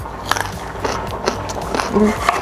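Raw carrot being bitten and chewed close up, with repeated crisp crunches spread through a couple of seconds over light background noise.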